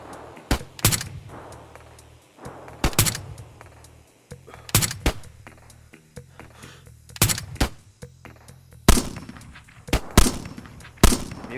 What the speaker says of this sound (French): Ça me tire dessus, l'hélico, ça me tire dessus depuis l'hélico.